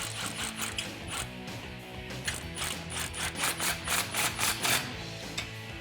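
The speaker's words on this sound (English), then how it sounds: "to tighten this stuff down, you're going to need a 13mm socket" A ratchet with a 13mm socket tightens exhaust fasteners on a 2009-2010 Ford F150 5.4L during a Borla Stinger S-Type dual exhaust install, giving quick close clicking bursts in uneven spurts with no talk.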